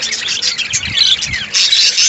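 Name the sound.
colony of budgerigars chirping in aviary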